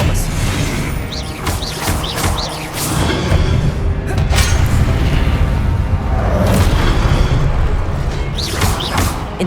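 Expelliarmus spell effect in a Harry Potter video game on PS5, a loud, dense blend of booming blasts and whooshes that runs without break through the clip.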